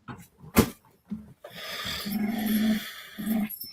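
A dog growls low and rumbling in sustained bursts, close by, after a sharp knock and a few scuffling sounds, with a steady hiss in the background.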